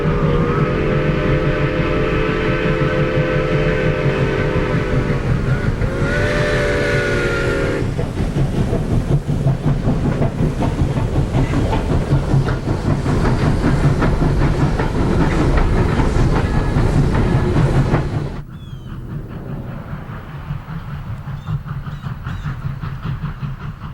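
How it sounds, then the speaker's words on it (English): Vintage steam locomotive number 4501 runs past at Belvore, Virginia, with a loud continuous rumble, hiss and rolling clatter of cars, a long whistle-like tone early on, then the roar drops abruptly as it moves away. "The train moves right along at Belvore, Virginia, a favorite location for photo runs."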